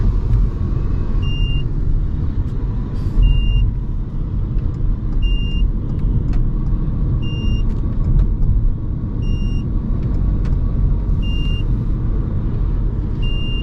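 A Toyota C-HR drives under throttle with a steady, dense engine and road rumble. A faint electronic chime beeps at regular intervals above it, with no talking.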